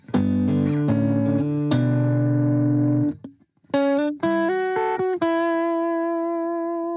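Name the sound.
electric guitar through compressor pedal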